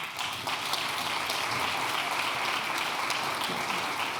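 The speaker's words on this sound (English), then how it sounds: "once again, a loud applause, please, for them" Loud, dense applause from an audience cheering award winners at a start-up award ceremony during a circular economy festival, continuous hand clapping that holds steady throughout.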